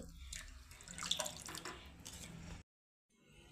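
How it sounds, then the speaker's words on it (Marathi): Cold water poured into a pot of peanut amti, a close splashing pour that runs for a couple of seconds and then stops abruptly, followed by faint room noise. "याच्यामध्ये आता पाणी घालून घ्यायचं आहे"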